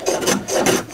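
A hand plane takes thin shavings off wood end grain, producing two or three close, loud raspy strokes in quick succession.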